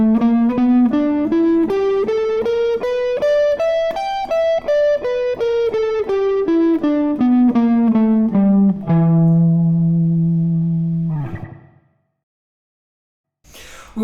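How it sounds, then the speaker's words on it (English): An electric guitar plays the minor pentatonic blues scale, single distorted notes stepping steadily up and then back down, ending on a sustained low note that fades into silence before a brief final sound. "So the whole blues scale sounds like this."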